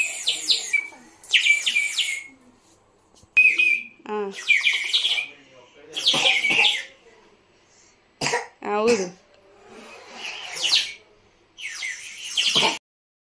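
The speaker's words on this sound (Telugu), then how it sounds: "వాటర్ పోసి ఊదితే ఒక పక్షి ఏదో వచ్చి అరుస్తున్నట్టు అనిపించింది" A water-filled Kondapalli wooden toy whistle gives a series of short, warbling bird-like bursts, some trilling and quavering, each separated by brief pauses, close and fairly loud.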